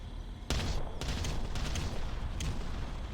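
Bombardment explosions rumble in the Ground Control strategy video game, with several booming impacts and crackling blasts layered over a dense, continuous roar of battle.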